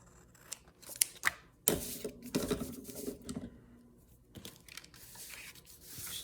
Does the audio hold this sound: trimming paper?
yes